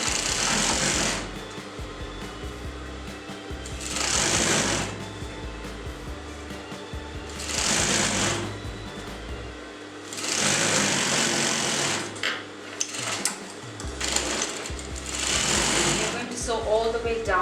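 A sewing machine stitches fabric for a tote bag in loud, close, whirring bursts that start and stop repeatedly, with a voice talking during the pauses.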